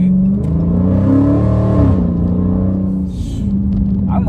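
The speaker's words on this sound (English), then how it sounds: "I know y'all hear that V8 back there" Dodge Scat Pack V8 engine revving loudly and close, a steady deep rumble with a rising rev swell midway before settling back to a heavy idle-like drone.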